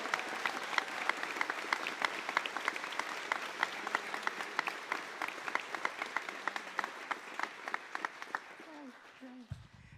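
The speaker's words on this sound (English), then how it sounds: "Please, one more round of applause for our seniors." Applause from a high school spring band concert audience honoring graduating band seniors, sustained clapping with crisp individual claps that gradually thins out toward the end, where a voice briefly comes in.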